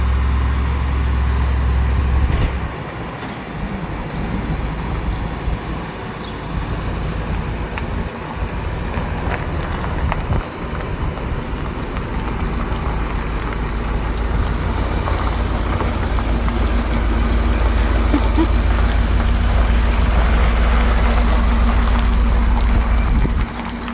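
A truck carrying a loaded camper pulls away, its engine droning steadily up close with road rumble building over a long stretch, no voices.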